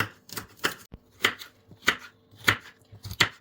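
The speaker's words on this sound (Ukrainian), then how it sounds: "Нарізали моркву." Knife chopping carrots on a board, about eight sharp crisp cuts in an uneven rhythm, close and clear with no talking.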